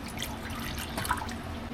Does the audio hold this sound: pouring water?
yes